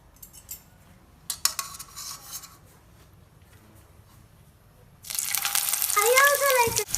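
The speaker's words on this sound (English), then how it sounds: "We need to very carefully drop this into the pan." Stuffed bitter gourd drops into a pan of hot coconut oil, setting off a sudden loud, continuous sizzle after a few quiet clinks of utensils in a home kitchen, with voices talking over it.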